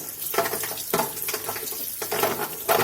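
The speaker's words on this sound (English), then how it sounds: "Drop them in this colander under that running water." Dried soup beans rinsed in a colander under a running kitchen tap, a steady broadband water rush with periodic louder splashes as handfuls are stirred and dropped in, close and continuous with no talk.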